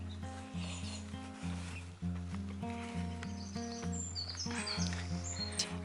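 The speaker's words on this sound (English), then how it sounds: "you can hear the birds making loads of noise" Birds in a small forest patch near a garden chirp and tweet in short, high, scattered calls over a steady low tonal hum and rubbing noise, the song fairly faint and intermittent through the background.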